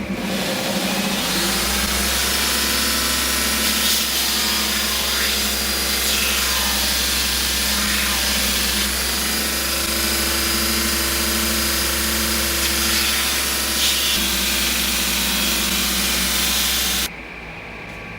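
A Grizzly 2x42 belt grinder, a machine prone to motor overload and overheating, grinds a piece of hardened steel. Its loud, steady motor drone and abrasive hiss run continuously, then cut off abruptly near the end.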